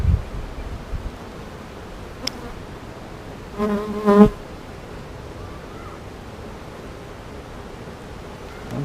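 Steady, soft hum of honeybees around an open hive during a routine frame inspection. A brief louder buzz passes close by near the middle, with no talk.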